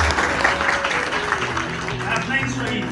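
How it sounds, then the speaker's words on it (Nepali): An audience at a Nepali Christian engagement party claps in a continuous burst of applause, with voices talking over the clapping. "ल धन्यवाद, ताली बजाइदिनु"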